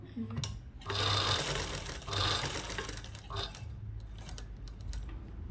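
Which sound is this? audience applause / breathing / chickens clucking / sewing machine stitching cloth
sewing machine stitching cloth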